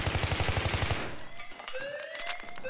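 Heavy machine-gun fire in a shooter video game, about a second of fast rhythmic close shots, then scattered quieter shots and whining tones as the burst ends.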